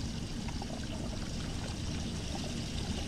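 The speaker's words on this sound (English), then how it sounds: "now let's take this off and pour the oil in." Oil pours in a steady, continuous liquid trickle and stream inside the VR game I Expect You To Die, loud and alone without any talk.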